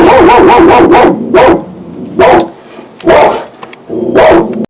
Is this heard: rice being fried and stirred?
no